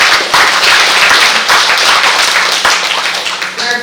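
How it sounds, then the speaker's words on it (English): An audience at an International Women's Day event bursts into loud, dense clapping that holds steady throughout, close and continuous before tapering slightly at the end. "let's give them a very big round of applause"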